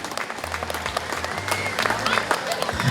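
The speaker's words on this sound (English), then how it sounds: "So let's give a round of applause to our sponsors" A summer concert crowd at Taylor Park gives a steady round of applause for the sponsors before a performance, with cheering voices and low tones from the stage mixed into the clapping.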